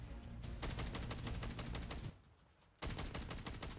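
Sidewinder automatic rifle in Modern Warfare 3 fires free tracer rounds in rapid, evenly spaced bursts, a sustained volley that pauses briefly before another burst rips off, loud and close.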